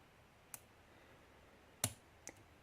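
Lock pick clicking on a pin of a Virgo Maiden lock, three small sharp clicks spaced irregularly, faint against near silence.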